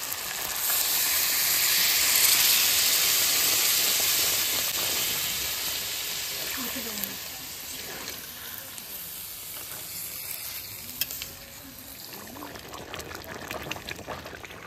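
Water poured into a pan of braised chicken cooking over a stove, hissing loudly at first and then settling into a steady bubbling boil.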